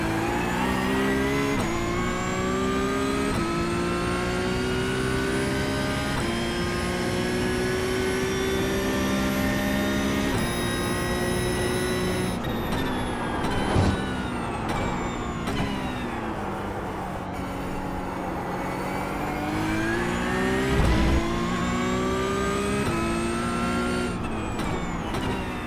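Porsche 992 Cup race car in iRacing, lapping Oran Park at speed. The flat-six engine wails continuously, climbing through the revs, with sharp drops at gear changes and braking zones, loud and unbroken throughout.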